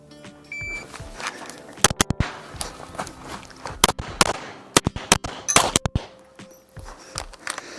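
Rapid gunshots crack out in several separate bursts during a USPSA practical shooting stage, loud and sharp, with quieter shuffling and movement between the strings of fire.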